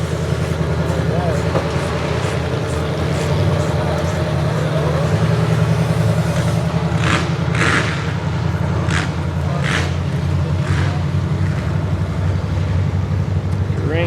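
Tough truck engines race at a county derby, roaring loudly and steadily with sharp crackling bursts and pops, while an announcer talks over the noise.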